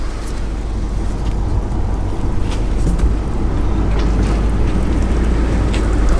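A Volkswagen car drives through falling snow in winter, its engine and road noise forming a steady low rumble with wind buffeting the microphone, continuous and fairly loud with no talk.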